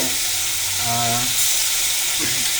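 Pangas fish pieces sizzle and fry in a spice paste in a hot pan, a steady close hiss with brief stirring clatter throughout.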